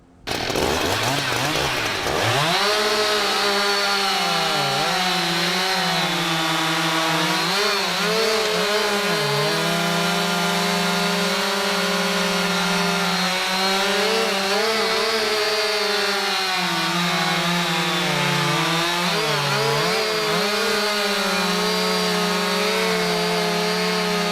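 A Husqvarna chainsaw upgraded from a 365 to 372XP spec, running a 20-inch bar, starts and roars loudly for over twenty seconds, its engine pitch dipping and rising as it bites into wood and revs again.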